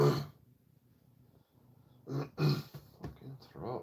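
A person clears their throat with a short rough rasp, then a pause, followed by a couple more gravelly throat-clearing bursts close by.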